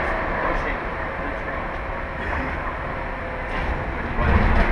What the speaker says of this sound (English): So you can see the feeder wheels are moving along the bottom.